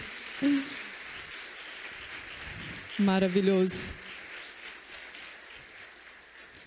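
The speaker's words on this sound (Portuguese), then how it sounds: "Ele merece uma salva de palmas, né? Pode dar, porque é para ele." A church congregation applauds during a Sunday service, a soft, steady patter of many hands clapping beneath a speaking voice and a brief sung or spoken phrase.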